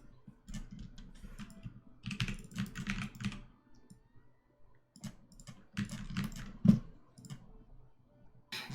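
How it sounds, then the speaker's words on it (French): Fast bursts of clicking keystrokes on a computer keyboard, close and fairly quiet, broken by short pauses, with no speech. "Le clavier revient parmi nous. Le clavier de Manga Life."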